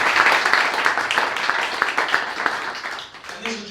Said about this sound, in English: a big round of applause for Wheelhouse, please